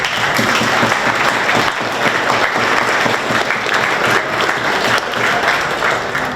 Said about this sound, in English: Let's give a round of applause to the Chamber of Commerce.